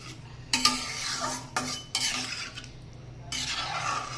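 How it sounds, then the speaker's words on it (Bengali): A spoon or ladle scrapes and clinks inside a pot of simmering vegetable curry in short bursts, with a soft background simmer between stirs. "এবার এটাকে নাড়াচাড়া দিয়ে ফুটতে দেবো।"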